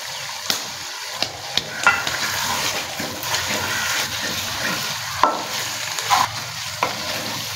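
Meat sizzles steadily in a pan over low heat while a spoon stirs it, adding repeated scraping clinks across a continuous close frying hiss.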